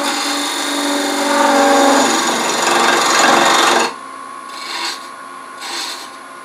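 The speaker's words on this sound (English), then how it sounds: "Turn a spigot of wood 1 5/8 inch in diameter." A wooden spigot is turned on a lathe, the tool scraping steadily with a loud, continuous rasping hiss that suddenly drops to a quieter motor hum with faint intermittent scraping.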